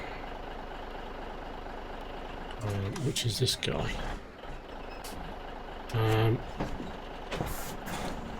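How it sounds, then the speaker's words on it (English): In Farming Simulator 17, a water truck idles and drives with a steady engine drone while two bursts of reversing beeps sound near the third and sixth seconds, air-brake hisses and someone talking over it. "We need the water truck,"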